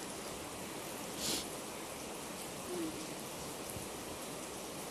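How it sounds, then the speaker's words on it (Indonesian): Rain falls steadily outside, a faint, even hiss of drops with a couple of slightly louder rustles, heard alone with no talking. "Kamu keberisikan suara hujan ya?"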